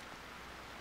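Heavy downpour in the Animal Crossing: New Leaf village, a steady broadband hiss of rain lasting under a second, even and unbroken with no voices.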